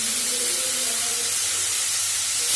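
Masala sizzling in a pan while cooking a cauliflower paratha filling, a steady close hiss of frying with a faint low hum underneath, no talking.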